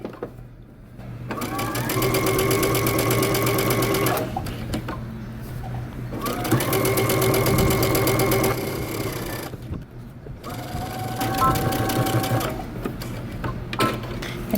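A sewing machine stitches a dress seam in three long runs of fast, steady mechanical whirring, each lasting a few seconds and separated by short pauses.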